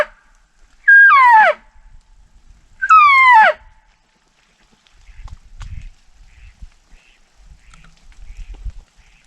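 Two loud, drawn-out duck calls sound close together, honking, followed by quiet rustling and footsteps outdoors in rainy Manitoba woods.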